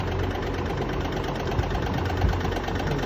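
Suction fans at the end of a poultry house run with a steady, loud mechanical drone and low rumble that stays even throughout, with no voices.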